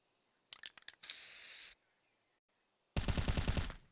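Automatic rifle spray in a Counter-Strike match on Inferno, a few rapid shots and then two dense hissing bursts of fire separated by near silence, loud and close.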